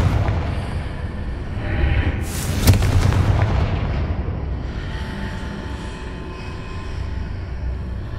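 A Confringo fire spell bursts in Hogwarts Legacy, a sharp blast around the middle followed by a rumbling, crackling roar over dense game ambience and music, loud and close with no talk.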